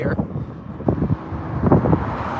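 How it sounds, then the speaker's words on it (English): Wind buffeting an outdoor microphone beside the railway in Stuart, Florida during a cold front, rough low rumbling gusts that swell and fade, with faint road traffic underneath. "It's a bit windy up here"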